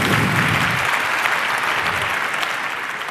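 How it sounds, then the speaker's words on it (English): A conference audience claps loudly and continuously, a dense burst of applause that holds steady for a few seconds. "Applause for the VOC."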